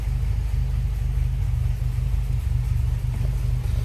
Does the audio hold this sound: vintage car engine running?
yes